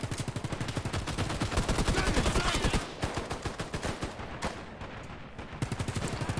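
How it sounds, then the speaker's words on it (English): Rapid machine gun fire in the shooter Caliber, long rattling bursts of evenly spaced shots, loud and close, with a brief pause before another burst. "Okay, I just dumped an entire clip into that guy."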